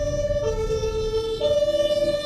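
Fire truck siren wailing loud and close, a steady two-tone pitch that drops then rises again over a rumbling engine, with no talk over it.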